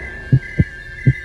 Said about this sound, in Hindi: उसका दिल तेजी से धड़कने लगा।